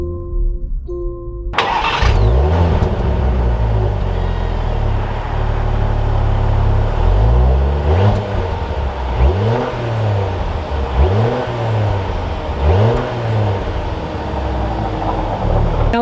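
A 2021 Jaguar F-Pace S SUV engine starts and drives off, its steady engine hum rising and falling through several rhythmic revving gear pulls, close and loud throughout.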